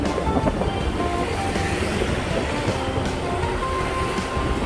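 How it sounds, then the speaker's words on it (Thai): A departing train, number 986, rolls steadily along the tracks toward a bridge with a continuous rumble and faint rhythmic clatter, heard from nearby at moderate volume. "อันนี้รถออกไปแล้วครับกำลังจะข้ามสะพานดำ"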